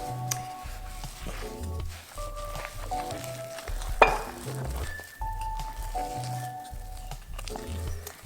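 Melted Lindt 90% dark chocolate being stirred in a bowl for eggless brownies, a steady run of close scraping and mixing strokes with one sharp clink of the utensil partway through.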